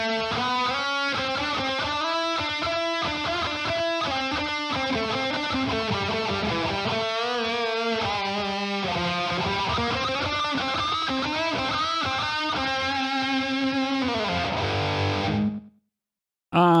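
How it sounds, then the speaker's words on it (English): Electric guitar run through the Aurora DSP Rhino plugin with slapback delay, a distorted, sustained riff playing continuously and loud, each note followed by a quick short echo, ending abruptly near the end. "And you've got your slapback delay."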